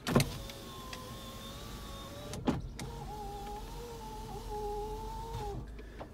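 Power windows of a 1996 Mercedes-Benz C220 running in two long electric motor whines, each a few seconds long with a thump at the start and end, heard close inside the cabin.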